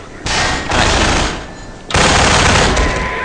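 Bursts of automatic gunfire from the video game Half-Life 2 come in loud, dense rattling volleys. A short lull sits between them, and a heavier burst follows, with no speech over it.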